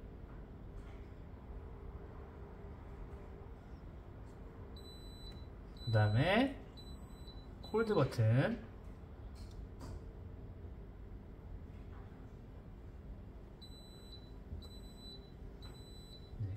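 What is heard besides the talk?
Ruhens WHP-3700 water purifier alarm beeps during reset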